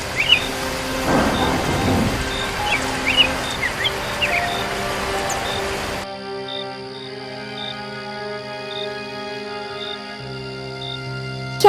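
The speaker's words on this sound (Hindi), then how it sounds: "हुई बारिश शुरू हो गई" Steady rain falls with low rumbling thunder in the first half, then the scene shifts to quieter rain with crickets chirping in the background.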